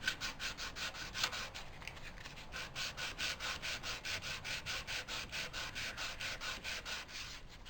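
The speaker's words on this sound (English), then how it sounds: "Now what we can do is just sand a little bit around it." Sandpaper rubs wood around a joint on a Morris chair, a steady run of close, rhythmic back-and-forth strokes that keeps a regular beat throughout with no voice.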